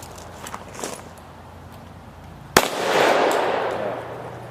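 A single sharp shotgun blast fired at pellet targets, one sudden loud crack followed by a rolling outdoor reverberation, after a few quiet handling taps.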